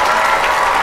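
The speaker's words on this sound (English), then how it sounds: "Okay, stop clapping." A brief burst of dense, even clapping, like a crowd applauding, loud and continuous from start to finish.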